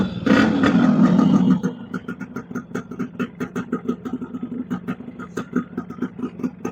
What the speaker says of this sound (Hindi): तो पहले बाइक को स्टार्ट करते हैं और पंप का वर्किंग चेक करते हैं।